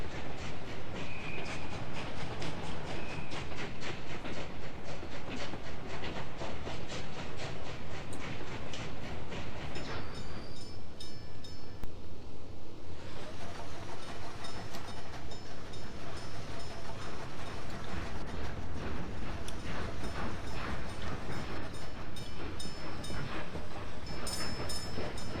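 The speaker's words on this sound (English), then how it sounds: "We have these proper locomotives." A video-game locomotive train rumbles steadily along with rhythmic clickety-clack of wheels over rail joints, a sustained mechanical roar lasting the whole stretch.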